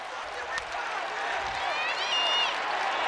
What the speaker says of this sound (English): And the Dome crowd comes to life.